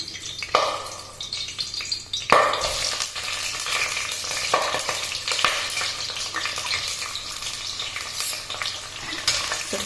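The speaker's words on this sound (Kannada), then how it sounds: "ನಾನು ಇವಾಗ ಈರುಳ್ಳಿ ಹಾಕೋಣ" Onions frying in hot oil in a pan for mushroom biryani: a steady, loud, close sizzle with occasional stirring scrapes, continuous throughout with no talking.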